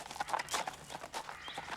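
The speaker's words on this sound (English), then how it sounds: "That's a magnificent piece of horseflesh you're riding there, Earl." Horse hooves clip-clopping at a steady walk as a rider travels along, the uneven hoofbeats moderately faint and heard alone with no talking.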